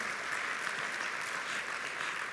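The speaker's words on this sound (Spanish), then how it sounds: "Dele un aplauso al Señor." Church congregation clapping for God during a Spanish-language sermon, a dense, even wash of applause sustained throughout without speech.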